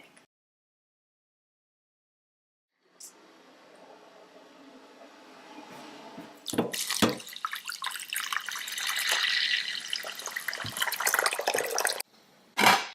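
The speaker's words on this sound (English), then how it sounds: "I'm going to be using 5 cups of boiling water" After a moment of silence, boiling water pours steadily and splashes into a pot, rushing louder midway, with a few clunks of the pot.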